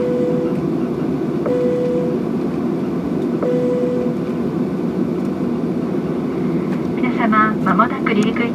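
Cabin noise inside an ANA Boeing 737-700 before takeoff, a steady engine and air-conditioning hum heard from a seat, with a few chime tones and a cabin announcement over it.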